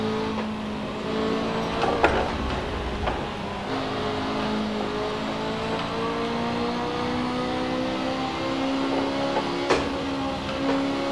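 A racing video game car engine driven with a Logitech steering wheel near the Brünnchen section, with a steady sustained engine drone that shifts pitch as it brakes and accelerates, plus occasional brief clicks, with no talking.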